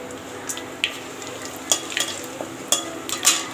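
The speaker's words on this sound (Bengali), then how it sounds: "ভালো করে ভেজে নেবো।" Whole cardamom, cloves, cinnamon and bay leaf fry in hot oil in a pan. A low sizzle runs beneath a few sharp scraping clicks as a spoon stirs them.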